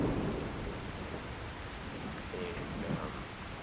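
Game thunderstorm ambience with heavy rain from the True Storms mod for Skyrim, a steady dense hiss of rainfall throughout with low rumbling thunder swelling at the start and near the end.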